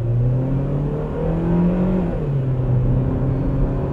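A Ravon R4 electric car accelerates hard at full throttle, its motor whine climbing steadily in pitch over a low road rumble, loud and close throughout.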